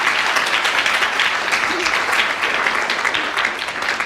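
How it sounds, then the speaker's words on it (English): A studio audience at a comedy panel game bursts into a round of applause, a dense, sustained wash of clapping close to the microphone that holds fairly even throughout, with no voices over it. "an extra round of applause as well as a bonus point to Aimi Macdonald"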